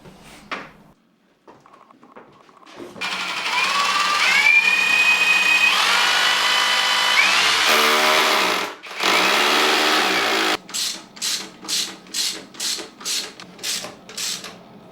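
Power tool driving coach screws through radiator brackets into wall plugs, a sustained whirring drive of several seconds, then a run of short rhythmic bursts as the screws are snugged home, close and fairly loud with no talk.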